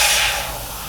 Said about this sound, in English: we're just gonna start sort of spraying in these panel lines